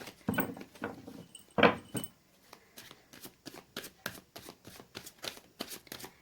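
Tarot cards are drawn and shuffled from a deck up close, a series of quiet papery flicks and slides with a few louder riffles early on, then regular soft card snaps, no talk.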